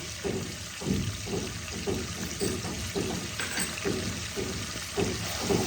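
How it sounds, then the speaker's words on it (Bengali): Spice masala of coriander powder and Kashmiri red chili powder frying in a pan, a continuous close sizzle with rhythmic stirring strokes roughly every half second, steady and moderately loud throughout. "এবার আমি ভালো করে মশলাটাকে কষিয়ে নেব।"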